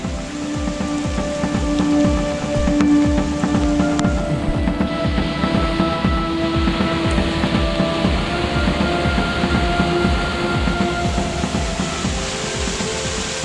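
Heavy, steady rain pours down in a dense, continuous patter, mixed with a low rumbling roar that never lets up.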